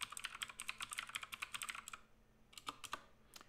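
Quick clicking keystrokes on a computer keyboard while a passphrase is entered on a Linux or macOS machine, a fast close burst of taps, a brief pause, then a few more keys, quiet and alone.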